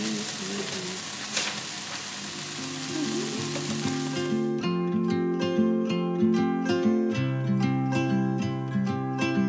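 Pancakes frying in two pans on a home stove, a steady close sizzle that runs through the whole clip, with clattering kitchen sounds and background music over it.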